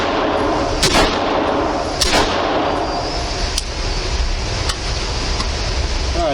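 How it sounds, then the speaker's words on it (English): Roughly four suppressed rifle shots, fired with a low-profile suppressor, ring out at irregular intervals as sharp, loud cracks with metallic ringing over a constant outdoor background. "Alright, so there's a few rounds with that suppressor on."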